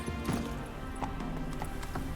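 Roach, the horse in the video game Witcher 3, gallops in steady rhythmic hoofbeats over a continuous background of game ambience.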